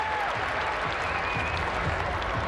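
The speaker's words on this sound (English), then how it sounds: "This is a rival crowd cheering that." A rival crowd at a women's gymnastics championship cheers and applauds, a steady wash of clapping and shouts from a large arena audience, sustained and fairly distant.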